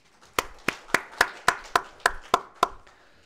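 Nine sharp claps from a church congregation during a Sunday service, in a steady, even rhythm, ringing slightly in a room, with no voices.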